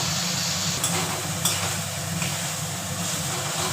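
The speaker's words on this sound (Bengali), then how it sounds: "এইবার আমরা রসুন আদা বাটাটা যে পেস্ট করা ছিল সেইটা দিয়ে দেবো" Garlic-ginger paste hits a hot pan and sizzles steadily while being stirred, a constant close hiss with a few light scraping clicks from the spoon.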